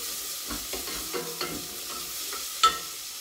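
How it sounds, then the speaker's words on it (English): Finely chopped food frying in a pan is stirred in a few soft scraping strokes over a quiet sizzle, ending with one sharper clink near the end. "Give it a stir."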